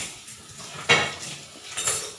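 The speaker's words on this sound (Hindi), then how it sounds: "बर्तन साफ करने लगी थी" Dishes, pots and utensils clatter as they are washed in a home in Delhi on a cold winter day, with two quick, fairly quiet clanks about a second apart over a soft background hiss.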